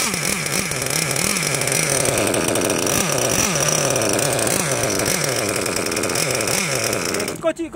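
Gasoline engine of a Losi LST XXL-2 RC monster truck runs loud and steady with a rhythmic pulsing two-stroke buzz throughout, cutting off abruptly at the very end.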